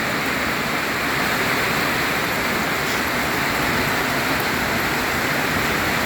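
Heavy rain pours down during a storm at a rural house near a rubber plantation, a loud, dense and unbroken hiss that stays constant throughout.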